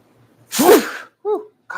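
One loud, close sneeze bursts out, followed by a couple of short breathy gasps.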